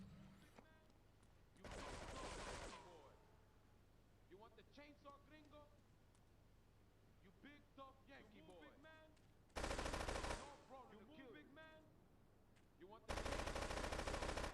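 Gunfire in GTA 3 Definitive Edition, three loud broadband blasts each lasting about a second, spread apart with a voice speaking in the gaps between them.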